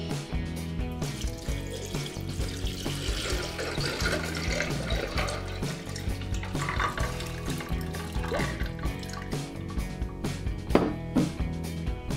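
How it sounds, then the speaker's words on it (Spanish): Cold water pours steadily into an aquarium lined with seashells, a continuous running, filling wash that lasts throughout beneath louder background music. "Voy a llenarlo de agua fría."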